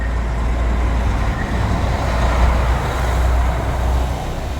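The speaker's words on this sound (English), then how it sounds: "I said there wasn't much traffic, but there's enough to be noisy." Street traffic outside the Albuquerque Convention Center, a steady loud rumble of passing cars and trucks with deep low-end roar and no clear breaks.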